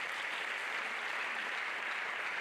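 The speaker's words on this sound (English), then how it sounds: "Give them a hand of applause." Steady, dense applause from a university lecture audience of students and faculty staff, continuous and even throughout with no talk over it.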